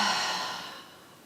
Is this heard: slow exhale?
yes